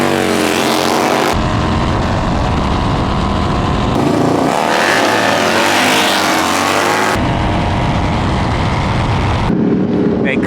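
A Harley-Davidson Road King with a 117 engine racing a Road Glide ST with a 110 at an outdoor motorcycle gathering in Houston: very loud, close engine roars and revving in long sustained surges, with voices faintly under the noise.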